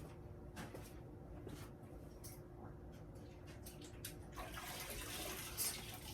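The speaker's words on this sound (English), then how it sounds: "I'm gonna dip all 3 of these into water, which my water buckets are back here" Sculpting cloths are dipped into a bucket of water, producing soft close sloshes and splashes over quiet room noise, with a louder burst of churning water near the end.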